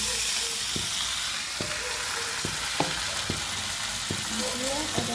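Barnyard millet rice sizzles softly in a frying pan while a spatula stirs it, producing a steady hiss with regular scraping strokes about every half second.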